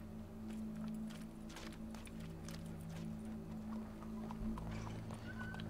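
Horse hooves clip-clop at a steady walking pace in Red Dead Redemption 2, fairly close and moderately loud, over a low sustained musical drone with no talking.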